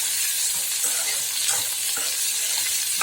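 Bitter gourd sizzles and sautés in a generous amount of oil, a steady close crackle with occasional stirring scrapes, no voices.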